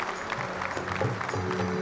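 An audience claps at a stage event in Mahasamund, Chhattisgarh, a brief burst of steady applause from a crowd filling the space, with no voices over it.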